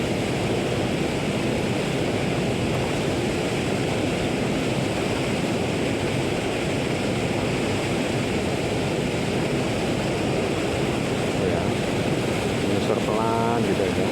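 Fast-flowing river water churns and rushes at a fishing spot, making a loud, continuous, broadband roar close to the microphone with some wind buffeting throughout.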